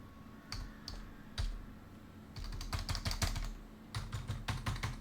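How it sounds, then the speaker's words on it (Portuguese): Rapid clicking from a faulty computer keyboard being typed on, arriving in short irregular bursts and longer flurries of keystrokes, close and fairly quiet, with no voices. "o meu teclado ele tá dando uns problemas"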